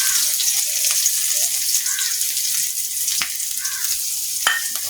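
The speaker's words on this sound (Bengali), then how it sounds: "এখন এটা আমি ভালোভাবে লাল লাল করে ভেজে নেব।" Chopped garlic and onion frying in oil with cumin and dried chilli, a steady bright sizzle with a few faint clinks and soft stirring, no talk.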